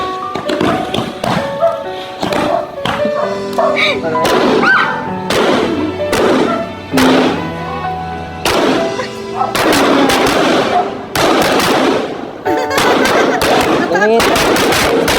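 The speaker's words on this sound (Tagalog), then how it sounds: "May fireworks." Fireworks go off at a 17th birthday celebration, a rapid series of sharp, loud bangs and crackling bursts in irregular clusters, with excited voices reacting in the background.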